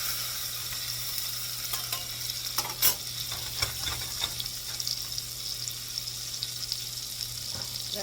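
Half a stick of unsalted butter melting in a hot pan for a buffalo cauliflower sauce, a soft continuous sizzle dotted with clicks and a sharp knock, no talking.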